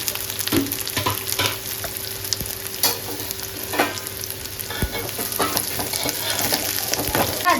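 Chopped onions fry in plenty of oil in a kadai for mutton haleem, a steady close sizzle with occasional scrapes and stirring knocks running throughout.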